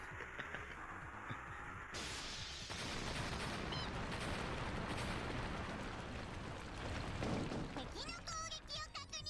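Gunfire from Ren's weapon in the game DRAMAtical Murder, a dense, steady barrage of loud shots and blasts with a few brief bright electronic tones near the end.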